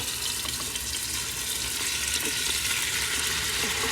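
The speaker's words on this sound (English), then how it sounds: "we're going to fry this up and just brown it" Stew beef frying in hot oil in a pot, a steady dense sizzle with small crackles and pops throughout, close and fairly loud, no voices.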